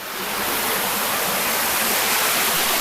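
Waterfall Sanae in Bang Phra, Si Racha, Chonburi, Thailand, with a natural rock slide on its first tier, roars as steady, loud broadband rushing water, continuous throughout with no voices.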